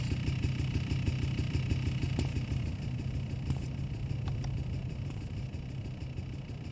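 Engine of a motorcycle in Grand Theft Auto: San Andreas idling steadily at a low, even rumble, held throughout with a few faint clicks over it.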